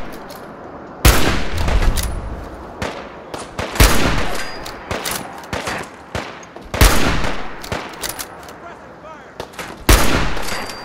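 Loud hunting rifle shots from Fallout 4 crack out in sharp bursts about every one to three seconds, each with a short echoing tail. Softer game sounds fill the gaps between them.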